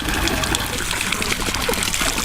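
Steady trickling and splashing water from a running drinking fountain in Rome, close by and continuous, with faint outdoor background noise.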